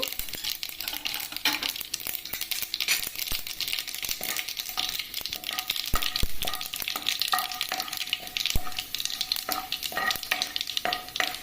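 Mustard seeds, cumin and peanuts sizzle in hot oil for a bottle gourd dish, a steady loud crackling hiss broken by scattered sharp pops and the scrape of stirring.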